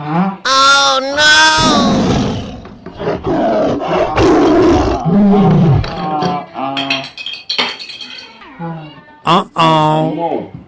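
A tiger roars loudly several times, mixed with animated, high-pitched voices talking over the snarls.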